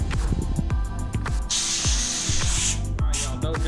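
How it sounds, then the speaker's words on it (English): Cooking spray hisses from a can onto aluminum foil on a small camp-stove grill, a short close spray burst heard over rhythmic background music. "I need to put some cooking spray on it"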